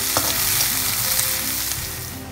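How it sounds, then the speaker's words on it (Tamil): Chopped onion sautés in a hot pan with fennel seeds for a Karaikudi-style broccoli gravy, giving a steady, close sizzle with faint stirring scrapes throughout and no talking. "ஒரு வெங்காயம் கட் பண்ணி வச்சிருக்கேன், அதை போட்டுடலாம். போட்டுட்டு நல்லா வதக்கிப்போம்."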